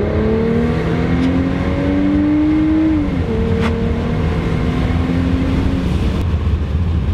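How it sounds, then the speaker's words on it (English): A twin-turbo V6 Mustang accelerates in sport mode, its engine note climbing steadily, dropping briefly at a gear change, then pulling again with a faint whistle above the steady rumble. "that turbo sounds sweet"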